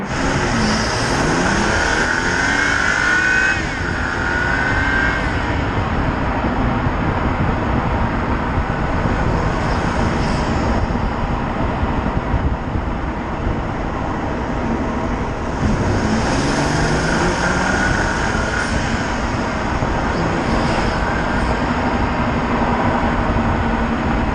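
Tuned BMW M235i with an aftermarket performance tune pulling hard in second gear, a loud continuous engine roar rising in pitch across two acceleration runs, heard from inside the car with wind and road noise.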